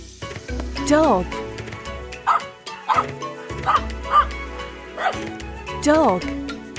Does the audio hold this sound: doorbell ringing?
no